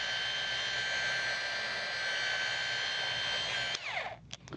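Steady machine whir of a sander working car paint during wet sanding scratch and scuff removal, loud and continuous, then cutting off abruptly near the end with a few faint handling rustles.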